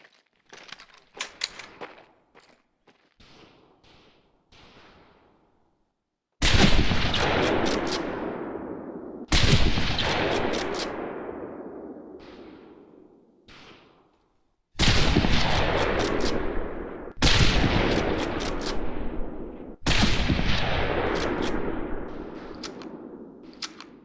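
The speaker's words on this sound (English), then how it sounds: "Conlon, Gaines, we have 2 scoped rifles available for use today." Scoped rifle shots on a long-range shooting range in Medal of Honor Pacific Assault: a few faint distant pops at first, then five loud, sharp cracks spaced several seconds apart, each with a long rolling echo.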